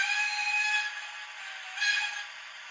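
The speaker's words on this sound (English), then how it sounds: "we should probably have a whistle." Whistle on a model railway, a thin steady tone with sustained harmonics that fades briefly and then swells again, close and moderately loud with no voices.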